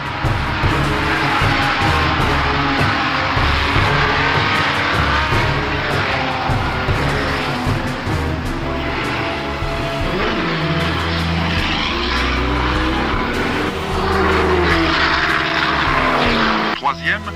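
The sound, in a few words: Porsche 935 Crémer race car at 1979 24 Hours of Le Mans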